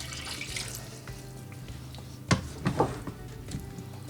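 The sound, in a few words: cup of water poured over bananas in pot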